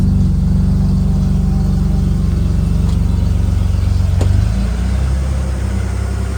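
A naturally aspirated drift car starts after sitting for a couple of weeks, its engine rumbling loudly and steadily at close range, a deep continuous idle with no voices.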